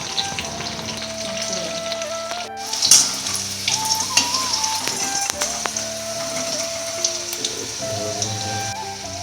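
Chicken pakora fries in oil with a loud, continuous bubbling sizzle close by, marked by a few sharper crackles and brief utensil knocks, without talking.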